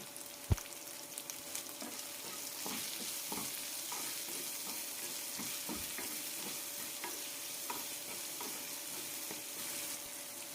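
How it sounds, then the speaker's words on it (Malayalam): Bitter gourd pieces sautéing in hot oil with salt, for a jackfruit seed stir-fry: a steady sizzle runs throughout, broken by repeated scraping stirs of a spoon against the pan. "എണ്ണയിൽ നന്നായി ഒന്ന് വഴറ്റിയെടുക്കാം"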